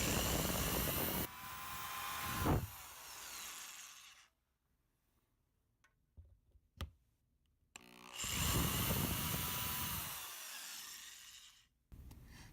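A power drill with a 3/16 inch bit bores mounting holes into a wall in two loud, close bursts whose whine rises and falls, separated by a quiet pause holding a few light clicks and knocks.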